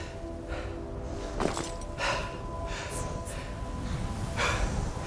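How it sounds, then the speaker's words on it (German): Skyrim's Dovahkiin character panting heavily, caught in a sound bug, a steady stream of faint breathy gasps and snorts repeating every second or so over a low game ambience. "Er ist einfach aus der Puste. Kann nicht mehr aufhören zu atmen."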